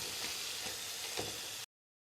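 Spiced minced-meat filling for içli köfte, mixed with pepper, red chili powder, chili flakes, salt and tomato paste, sizzles and scrapes steadily in a pan for under two seconds, close and fairly quiet, with no talk.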